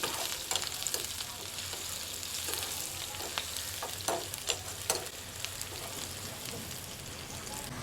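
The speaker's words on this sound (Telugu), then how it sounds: "ఇందులోకి వెల్లుల్లి రెంబులు నాలుగు మాత్రం దంచుకొని వేసుకోవాలి ఆనియన్స్ వీటన్నిటిని ఇలా బాగా దోరగా వేయించుకోవాలి" Onions and crushed garlic fry with mustard seeds in oil, a steady sizzle under scattered popping and crackling spatters, with stirring scrapes mixed in.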